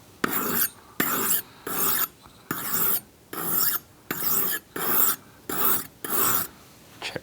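A leather head knife is sharpened with about nine rhythmic rasping strokes, each scrape about half a second long and separated by brief pauses, close and clear with no voices.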